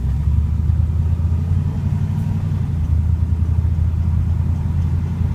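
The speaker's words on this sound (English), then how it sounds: "I'm going to go for a quick drive around the neighborhood" An LSX V8-swapped BMW E28 cruises through a neighborhood, a steady, loud low engine rumble and road drone holding evenly throughout with no talking.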